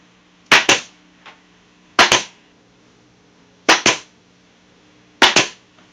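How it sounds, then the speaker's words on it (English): A brad nailer fires brads into wood while building a coffee can birdhouse, with four paired sharp pneumatic snaps spaced about 1.5 seconds apart, close and loud against a quiet background. "Take my brad nailer and we'll punch the brad in there."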